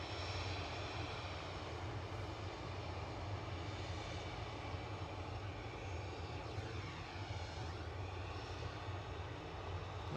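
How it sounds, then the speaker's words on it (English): An Ethiopian Airlines Airbus A350-900 comes in to land at Manchester Airport, a faint, distant, steady jet rumble with a slight whine that sustains evenly and has no voices over it. "Ethiopian A350-900 is next to land"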